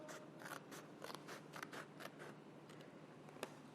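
Scissors snip paper along drawn lines in a classroom craft lesson, a rapid series of crisp, close cutting strokes in an irregular rhythm, fairly faint, with no talking.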